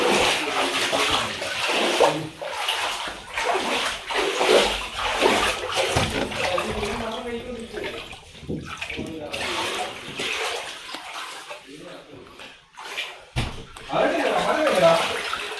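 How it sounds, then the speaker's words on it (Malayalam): Water swirling through the rooms of a house swamped by the 2018 Kerala flood in Vaikom, a continuous near sloshing and splashing that runs under someone talking throughout. "ഈ വീട്ടിൽ ഇത്രയും വെള്ളമുണ്ട് കേട്ടോ"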